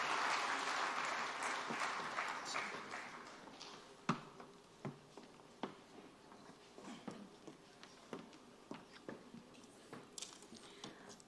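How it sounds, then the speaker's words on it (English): An audience at a national teachers' summit ceremony in Abuja applauds, the clapping loud at first and then thinning into scattered, fading claps over several seconds. "deserves another round of applause"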